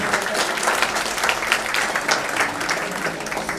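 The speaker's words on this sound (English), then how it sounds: "A round of applause for Mohammed Bhai, please." A crowd at a fan-club awards event applauds steadily for an invited presenter, dense continuous clapping at full volume throughout with no talk over it.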